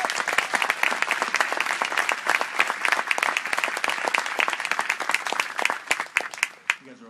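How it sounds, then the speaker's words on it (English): Audience applause at an outdoor Constitution Day concert on a palace green, honoring military bands of soldiers, sailors and airmen; dense, steady clapping from a crowd lasting several seconds, then tapering off with a few last claps. "So I'd ask you guys to give them a big round of applause up front"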